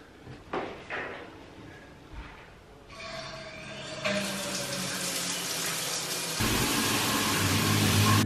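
Tap water runs steadily while short hair is washed, starting faint with a few knocks and growing into a louder, continuous rush.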